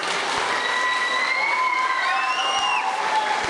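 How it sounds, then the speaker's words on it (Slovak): Audience applause after a singer's performance of a Slovak song at a talent show, steady dense clapping with a few whistles rising over it, moderately loud and continuous. "Veľký potlesk, ešte raz."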